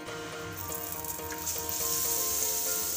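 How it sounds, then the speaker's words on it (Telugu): Boondi batter for a spicy boondi mixture drops from a perforated ladle into hot oil on a medium flame, making a loud, continuous close sizzle that swells slightly as it goes on. "బూందీ గరిటెతో వేస్తున్నానండి"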